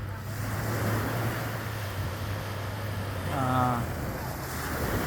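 Sea waves washing onto a beach at a resort in Maitum, Sarangani Province, a steady rushing surf with wind buffeting the microphone and a brief tonal sound partway through.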